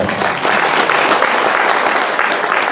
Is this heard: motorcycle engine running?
no